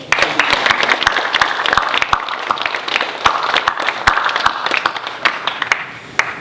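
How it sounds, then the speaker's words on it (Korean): A church congregation at a Sunday service claps vigorously, many sharp, close hand claps in a strong, fairly rhythmic stream lasting several seconds, with faint voices underneath. "우리 박수 한번 힘차게 더"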